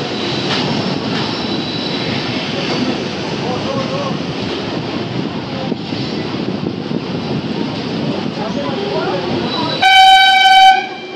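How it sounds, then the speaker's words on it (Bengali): The 12821 Dhauli Express arrives at Bhubaneswar railway station with a loud, steady rolling rumble of carriages, then a sharp horn blast near the end. "10 মিনিট লেটে কিন্তু আমাদের ট্রেন এসে ঢুকেছে ভুবনেশ্বর রেলওয়ে স্টেশনে"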